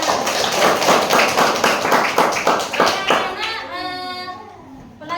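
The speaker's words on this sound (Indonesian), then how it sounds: "semuanya bagus, tepuk tangan." A class of children claps together in rhythmic bursts. The clapping fades out and a voice follows.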